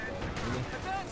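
Machine gun fire from the video game Company of Heroes 2 rattles faintly in short bursts beneath a player's talking.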